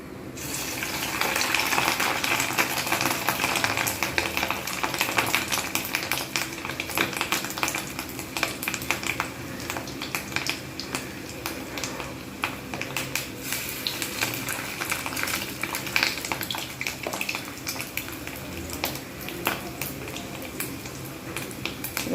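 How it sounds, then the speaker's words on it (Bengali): Fish roe fritters frying in hot oil in a home kitchen, a steady close sizzle and crackle lasting the whole stretch with occasional small clinks. "এবার আমি এতে একটা একটা করে ভেজে নেব"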